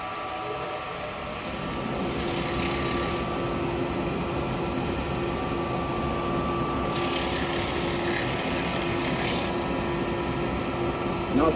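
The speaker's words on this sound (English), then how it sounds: "Right, I'm going to get a bit of sanding done." Abrasive sanding on a wooden sideplate spinning on a woodturning lathe, a steady rough rubbing hiss over the lathe's hum, with two brighter bursts of harder sanding, close and continuous.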